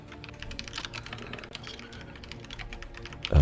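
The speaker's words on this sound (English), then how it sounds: "we can hear a lot of typing" Rapid, continuous typing on a computer keyboard with dense, uneven clicks at moderate volume, ending in a sudden loud bump.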